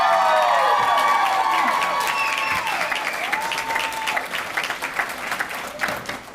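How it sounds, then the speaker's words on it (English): Crowd applause at a family medicine and podiatry residency graduation, loud continuous clapping with cheers and whoops rising over it at first, then the clapping slowly thins and fades. "The applause speaks for itself."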